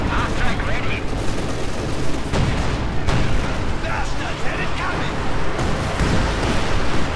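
Panzerwerfer rocket artillery bombards positions in the video game Company of Heroes 2, with dense, continuous booms and crackling gunfire rolling together while a voice talks over the barrage.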